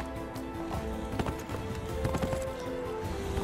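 Horse hooves clip-clopping in the video game Neverwinter, a steady run of close, distinct hoofbeats over a busy game soundscape, with an occasional faint whinny.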